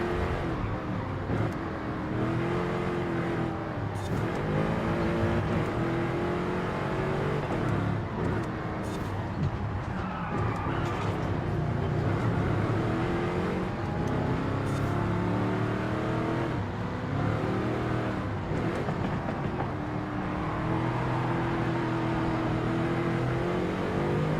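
A high-torque car in the racing game Forza Horizon 5 drones and revs continuously during free roam, its engine note rising and falling with no pauses.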